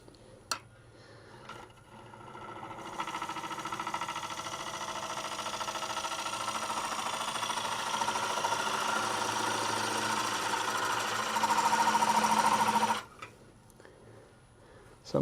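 A wood lathe turns a cypress bowl as a tool cuts into it, producing a steady, fairly quiet whirring hum that starts, holds for about ten seconds and then cuts off, with occasional clicks before and after.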